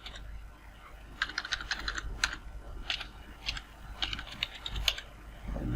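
Keystrokes on a computer keyboard while entering HTML code, a run of quick, irregular clicks in short bursts with brief pauses, fairly close and clear over quiet room tone with no talking.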